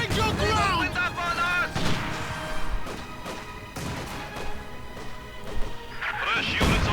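Soviet mortar fire in the video game Company of Heroes 2 lands a direct hit, dense crashing explosions and battle noise rolling continuously with a commentator's voice over it.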